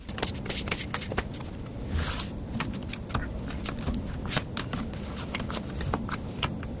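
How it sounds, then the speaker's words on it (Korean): A deck of tarot cards is shuffled and handled at close range, a steady papery riffling broken by sharp clicks and snaps as cards are drawn. "추가 카드 한번 뽑아보도록 할게요"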